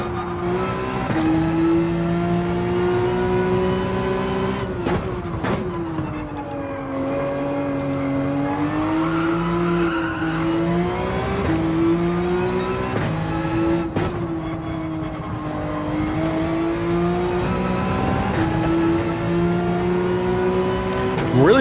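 Race cars lapping Brands Hatch in Gran Turismo 7, with a steady engine drone whose pitch rises and falls through gear changes and corners, loud and continuous, with a few sharp transient bumps along the way.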